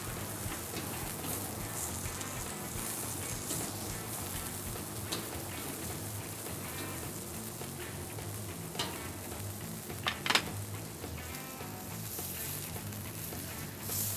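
Ears of corn sizzle on a hot grill with a steady, dense crackle and hiss throughout, plus a few sharper pops and a louder spit near the end; no one speaks.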